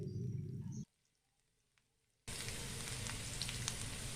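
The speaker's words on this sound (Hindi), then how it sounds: "बघार हो रहा है।" Loud crackling sizzle of spices, dried red chillies and bay leaves hitting hot oil for kadhi bursts in after a brief quiet pause, a steady hiss following some earlier frying noise.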